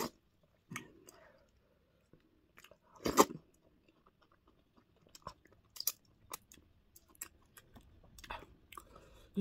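Close-up eating of vegetable fufu and ogbono soup with assorted cow meat and kpomo: sparse, quiet chewing and soft wet bites with occasional sharper crunchy clicks in an otherwise silent room.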